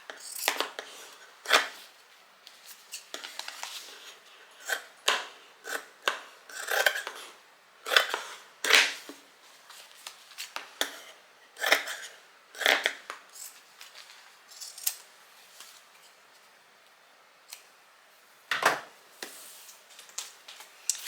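Scissors snipping through fabric for a bag slip pocket, a run of sharp close cuts in irregular bursts with short pauses between them.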